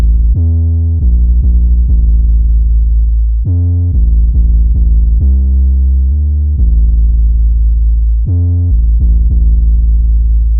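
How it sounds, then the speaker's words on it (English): Deep, fat 808 bass synth patch from the Toxic Biohazard synth plays a rhythmic pattern of loud sustained low notes with short repeated hits, dense and booming with no talking. "today we're making a nice 808 bass."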